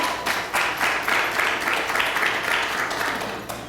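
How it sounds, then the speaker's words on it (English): Audience applause after congratulations at a talk on maximizing talents: a steady wash of many hands clapping for a few seconds, fairly loud and continuous, with no voices over it. "Yes, that's worthy of applause."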